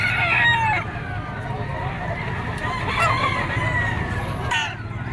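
A stag rooster, a yellow-legged Kelso, crows and clucks among other fowl at a Padre Garcia, Batangas poultry market, the calls layered over steady crowd murmur and nearby birds, with a sharper crow near the end.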